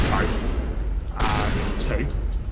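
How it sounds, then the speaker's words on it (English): Assault rifle fire in Mass Effect Legendary Edition, two quick bursts of gunfire with a short gap between them, loud and close, with speech mixed in. "We're gonna stick with the assault rifle."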